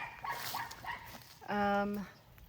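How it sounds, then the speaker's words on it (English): A neighbor's dog gives a short series of yips and barks at close range beside a garden flower bed, ending in one longer, whining vocalization, with a person talking nearby. "Here comes the neighbor's dog."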